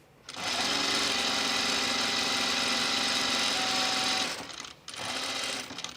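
A sewing machine runs at speed with a loud, buzzing whir and vibration, stops briefly near the end, then starts again for another short run.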